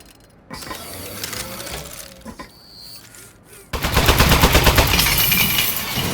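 A turret in Aperture Desk Job winds up with mechanical whirring, then bursts into loud, rapid continuous gunfire that fills the last couple of seconds.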